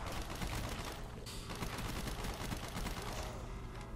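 Gunfire in the Black Ops 3 zombies mode on the Europa custom map, a dense, continuous rattle of rapid shots that fills the whole stretch without pause.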